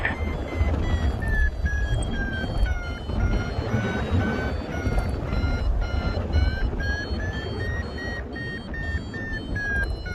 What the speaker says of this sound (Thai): ซ้ายอมสินฟังเสียงเบอร์มิเตอร์อย่ายอมนะ